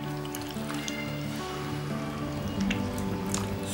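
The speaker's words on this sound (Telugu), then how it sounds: "చింతపండు మొత్తం మనం ఇట్లా వాటర్లో పిసకాలండి." Tamarind squeezed by hand in a bowl of water for Andhra-style fish soup: steady wet squishing and sloshing, close and continuous, with soft dripping splashes over a low background hum and no talk.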